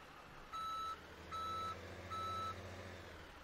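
Inside the video game Farming Simulator 17, a tow truck backs up with three evenly spaced electronic reversing beeps over a low engine hum. The sound is faint and there is no talk.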